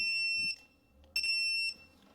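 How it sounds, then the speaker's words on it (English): Two steady high-pitched electronic beeps from a digital torque wrench reaching spec while tightening on a Nissan Armada 4x4, each lasting about half a second, separated by a short pause, close and clear. "And with that beeping, that is pretty much torqued up to spec there"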